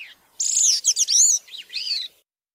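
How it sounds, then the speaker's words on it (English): A gray-cheeked thrush sings one short, burry, flute-like song of several high, wavering phrases that drop lower at the end, clear and close with no other sound. "The song of the gray-cheeked thrush is a burry but ethereal sounding flute-like series of flute-like notes"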